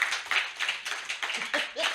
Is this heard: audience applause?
yes